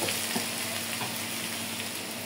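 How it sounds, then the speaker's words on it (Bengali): Chopped malabar spinach and potatoes fry over lowered heat in a pan, giving a steady, close crackling sizzle with faint stirring scrapes and no talk. "এইভাবেই চুলার আঁচ কমিয়ে শাকটা ভেজে নেব।"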